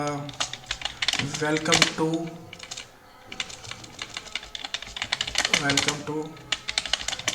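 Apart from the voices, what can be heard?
typing Python code on a computer keyboard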